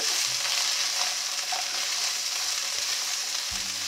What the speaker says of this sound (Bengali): আলু আর পটল ভাজবার সময় এর মধ্যে দিয়ে দিচ্ছি স্বাদ অনুসারে লবণ।